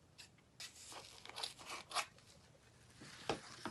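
Jute cord being cut while making a placemat, heard as a few quiet, close crunchy snips and tearing sounds, spaced irregularly over faint background hiss.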